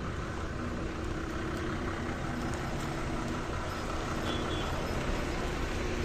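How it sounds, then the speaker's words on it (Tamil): A loaded goods lorry carrying a wheat load idles steadily nearby, its low engine rumble constant throughout amid faint roadside traffic. "என் வண்டி தான் அது"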